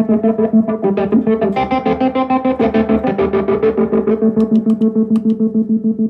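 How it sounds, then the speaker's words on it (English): An electric guitar runs through delay effects, making strange sounds. Repeating notes pulse in a steady rhythmic throb, with echoing layered tones and faint high plinks toward the end. No voices. "let's go back to doing some delay and make some weird sounds"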